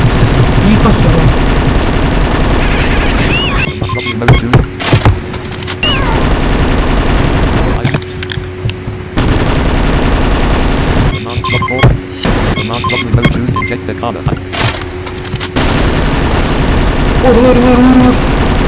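Video game gunfire: sustained loud automatic weapon bursts and rapid shots stacked over game sound, with brief pauses between volleys and a voice talking now and then.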